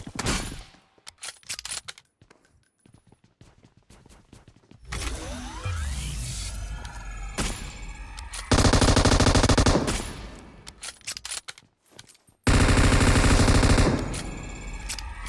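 Rapid automatic and single gunshots ring out in PUBG Mobile during a sniper match pitting a Kar98k against an AWM. Loud sustained bursts of fire alternate with quieter stretches of scattered shots and in-game ambience.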